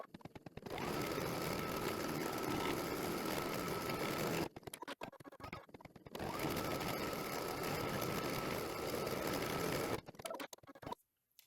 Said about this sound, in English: And now we're going to stitch the tack down line.